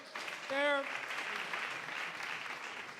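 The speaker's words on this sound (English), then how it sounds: "If you could give everybody a round of applause on there" A small audience applauds faintly during a public-safety budget presentation, a soft continuous patter with a brief tonal voice or whistle near the start.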